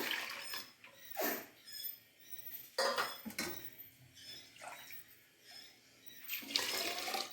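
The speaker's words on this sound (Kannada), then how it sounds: "ಹಾಗೆ ನೀರು ಹಾಕ್ಕೊಂಬಿಡೋಣ" Water poured into a pressure cooker holding rice and toor dal for bisi bele bath, heard as several short splashing pours with clinks of the vessel and quiet pauses between them.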